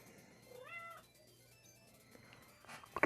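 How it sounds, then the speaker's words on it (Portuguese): A single cat gives one short, clear meow close by in an otherwise quiet room, followed near the end by a brief shuffling noise. "Não sei se é um dos gatos ou uma gatinha."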